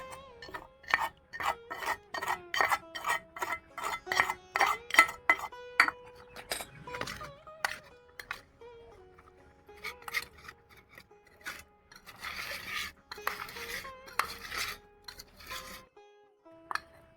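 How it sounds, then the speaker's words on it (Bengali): Drumstick pickle is mixed with spices by hand, producing a close rhythmic rasp and rub repeated many times, broken by faint clinks against a container, with no talking. "মশলাটা কি সুন্দর মাখিয়ে নিয়েছি সবগুলো দিয়ে"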